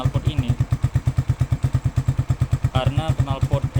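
A Suzuki Satria injection motorcycle fitted with an SCD Euro exhaust with a built-in catalytic converter idles in rapid, even, thumping pulses close to the mic while someone talks over it.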